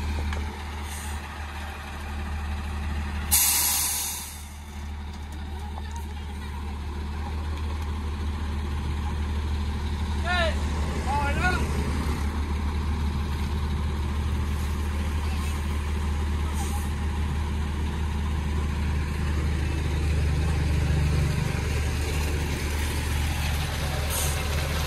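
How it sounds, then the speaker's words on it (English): A water truck arrives and idles, its diesel engine rumbling steadily up close, with a sharp hiss of air brakes early on and occasional clanks. "This truck has water for this area, for Jim Boy's area"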